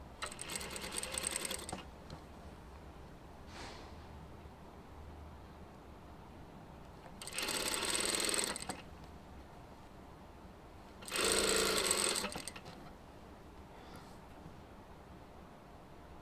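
A sewing machine stitches a double bias binding in three separate bursts of rapid mechanical whirring, each lasting one to two seconds, with quiet gaps between them.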